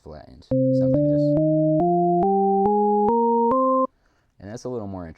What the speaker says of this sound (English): then I'll show you the minor scale,